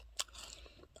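Crispy shrimp chips, reheated in a microwave, crunched between the teeth: one sharp bite followed by a few softer chews, close and quiet.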